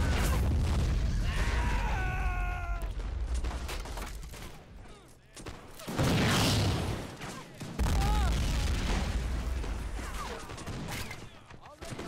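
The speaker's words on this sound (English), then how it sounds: "And the mortar's still going at it." Mortar and musket fire rumble through a battle in the Corsairs Magic Storm mod at a 1709 Russian forest outpost, with repeated booms and a dense crackle of shots over low roaring ambience, with a voice talking over part of it.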